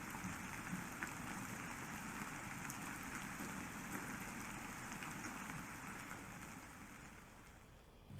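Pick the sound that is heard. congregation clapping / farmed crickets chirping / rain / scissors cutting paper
rain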